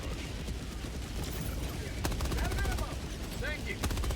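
Gatling barrage in Helldivers 2, a dense continuous rumble of gunfire and blasts with sharp cracks and mechanical whines, steady and loud throughout, with voices faintly underneath.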